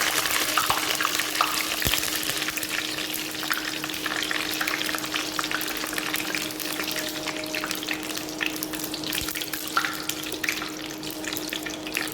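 Curry leaves frying in hot oil while cooking aloo bhujia, a steady dense crackling sizzle that runs throughout with a constant low hum beneath and occasional louder pops.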